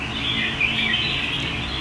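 Close, steady chirping and warbling of a competition songbird, perched near a Vietnamese bird-show cage, running continuously with no pauses or talk.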